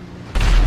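A jet blows up in the open-world video game GTA 5 with a sudden loud, deep boom that cuts in after quiet and rumbles on, with no talk.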